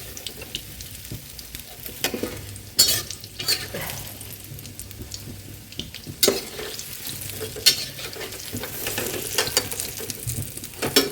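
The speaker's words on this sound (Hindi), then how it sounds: "ये हमारे कच्चे तल गए हैं, अब हम इनको दोबारा से तल लेंगे।" Cauliflower pakoras sizzle steadily in hot oil as they are fried a second time, with occasional louder stirring and scraping from a utensil over the continuous bubbling.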